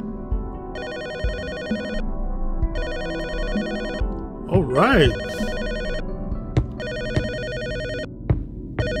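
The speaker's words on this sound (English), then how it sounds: "Let's get this phone, because this phone is getting on my nerves already." In the video game Her Apartment, a telephone rings in repeated loud bursts with short pauses between them, while a person talks over the ringing and other game sounds.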